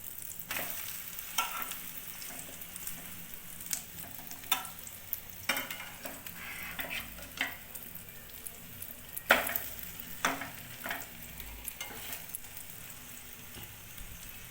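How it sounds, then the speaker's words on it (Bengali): Bread dipped in egg fries in a pan as a breakfast omelette toast, giving a faint, steady sizzle broken by scattered sharp crackles and pops over several seconds, with no talking. "একদিকে ডিমটা খুব সুন্দর ভাজা হয়ে গেছে। এবার অপর পিঠটা ভেজে নেব।"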